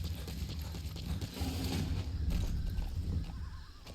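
A horse in Metal Gear Solid 5: The Phantom Pain whinnies and snorts over the clip-clop of hooves, close and steady across a few seconds, with no talking.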